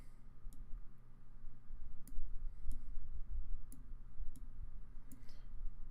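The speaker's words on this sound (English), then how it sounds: "we get to flip over 4 extra battle cards" Soft, sharp clicks and flicks as Transformers TCG battle cards are flipped over on a table one at a time, several spaced snaps over a low background hum.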